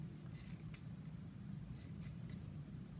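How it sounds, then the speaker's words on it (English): Faint crisp snips of scissors trimming the edges of a fabric bowl cozy, a few soft cuts spaced out over a low steady background hum. "we want to go ahead and trim these edges because I want to have a nice crisp edge"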